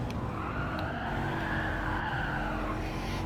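A Subaru WRX STI slides under the handbrake with a continuous rough tire skid and squeal over a steady engine drone, loud and constant throughout.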